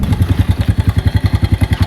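A motorcycle engine idles close by, its loud, steady chugging pulse repeating rapidly and evenly throughout with no talk over it.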